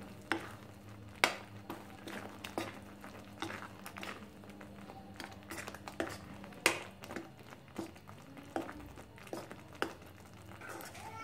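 Chili powder, coriander powder and garam masala are stirred in a pan for stuffed eggplant curry, giving a faint, soft sizzle under repeated light taps and scrapes of a spoon.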